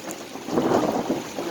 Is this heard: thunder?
yes